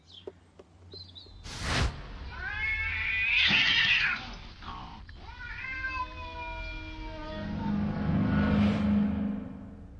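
Young male cats fighting indoors, with drawn-out yowls and caterwauling rising and falling over several seconds, a sharp burst near the start and a low growling stretch toward the end, close and loud.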